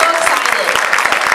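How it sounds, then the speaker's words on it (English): Audience applause in a hall during a 2008 county fair queen pageant, a steady dense wash of clapping with some speech mixed in over it. "I'm going to give them a big round of applause"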